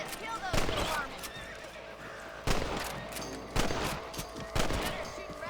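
Rifle shots from a hunt for rabbits in the video game Red Dead Redemption: four sharp cracks at roughly one-second gaps, each followed by a ringing tail, over horse whinnies and background speech.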